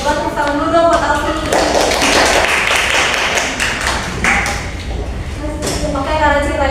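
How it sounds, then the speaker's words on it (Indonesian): A class of elementary school pupils claps for a classmate, a burst of dense clapping lasting a few seconds in the middle, framed by children's and a teacher's voices talking before and after. "Coba tepuk tangan dulu dong buat Alfi"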